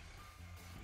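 Reversing beeps sound from a truck in GTA V, steady and faint under a low, continuous engine drone.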